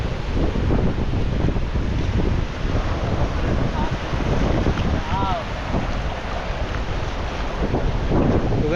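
Rough, churning sea waves at Pirwadi beach in Uran make a dense, loud roar, heavily buffeted by wind across the microphone throughout.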